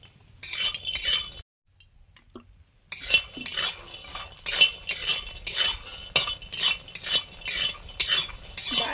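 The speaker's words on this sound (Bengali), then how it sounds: "শুকনো কড়াতে বড়িগুলো ভাজার পরে" Lentil dumplings (bori) fry in oil in a pan, with a steady bed of crackle and a run of rhythmic metal spatula scrapes and clinks against the pan, close by, broken by a short pause.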